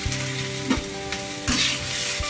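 Spinach, onion and green chilli sizzle steadily in a hot oiled pan for palak rice, with a few sharp scrapes and knocks as the mix is stirred.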